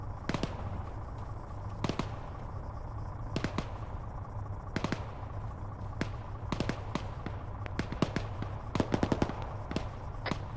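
Bursts of sharp gunfire in the ArmA 3 military game, scattered irregularly across the scene, loud and close over a steady low engine drone, consistent with an aircraft gun run.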